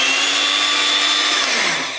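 An electric hand mixer motor, switched on after a repair, runs with a steady loud whine and hum that holds for about two seconds before starting to wind down.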